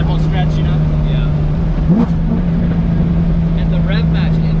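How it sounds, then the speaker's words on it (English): Chevrolet Corvette C7 Z06 with an aftermarket flywheel, its engine blipping up sharply during a rev-matched downshift over a loud steady drone heard from inside the car, with people talking. "And the rev match in this car is crazy."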